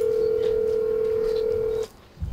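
A telephone call tone rings as a single steady electronic beep held for nearly two seconds on an unanswered phone, then cuts off into quiet room noise and a low rumble.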